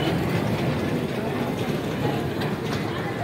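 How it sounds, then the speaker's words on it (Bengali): A children's amusement ride train runs with a steady, dense rumbling clatter, moderately loud and continuous, with faint voices mixed in. "ট্রেনটা এমনি ঘুরতেছে দেখুন"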